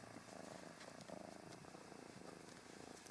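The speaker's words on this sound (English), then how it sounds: "Apologies for the cat." A house cat purrs close by in a steady, soft rumbling rhythm that continues unbroken over a quiet room.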